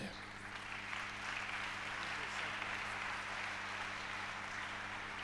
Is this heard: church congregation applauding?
yes